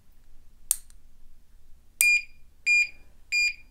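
A Chinese AlarmLock padlock sounds its warning after being tapped with a lockpick handle: two sharp clicks, then three short, loud, high-pitched electronic beeps at steady intervals in an otherwise quiet room.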